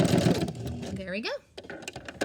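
A sewing machine runs on its longest stitch setting, without backstitching, to gather a fabric ruffle, whirring briefly under a woman's close, clear talking.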